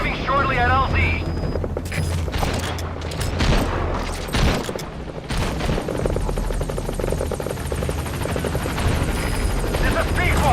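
B-Quad helicopter arriving at a landing zone in Metal Gear Solid V, its rotor chop loud and continuous, overlaid with gunfire bursts, booms and a spoken radio voice.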